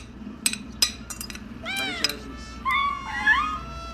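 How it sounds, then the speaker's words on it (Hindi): Several cats meow in short, rising calls, some high and sharp, others drawn out, with clinks and quiet voices mixed in close by. "ओह नेकी, बिल्लियाँ आ गई, मैं जाकर उनके के लिए दूध लाऊं।"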